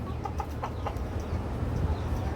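Four-month-old Brahma chickens clucking softly at close range, a few short scattered clucks over a low, steady background hum.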